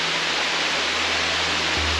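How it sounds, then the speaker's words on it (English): A waterfall reached by a steep hiking trail roars as a constant, dense rush of falling water, close and loud, with no voices heard. "So look at how beautiful that waterfall is."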